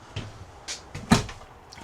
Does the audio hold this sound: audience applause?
no